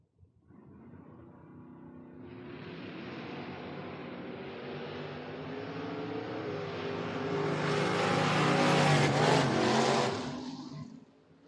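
Drag race cars, one a Monza, launching and racing down the strip, a rising engine roar that builds from a low rumble into a loud broad blast, then cuts off sharply at the end.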